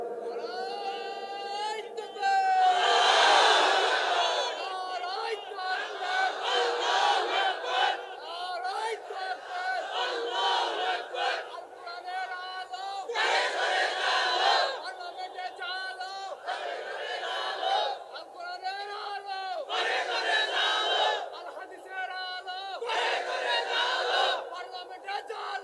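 A large crowd at an outdoor Islamic sermon gathering chants slogans in repeated loud call-and-response bursts, roaring waves of voices with short pauses between them, continuing throughout.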